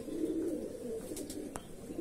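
Andhra Madrasi pigeons coo in soft, low repeated calls close by, with a few brief sharp clicks or flutters near the end.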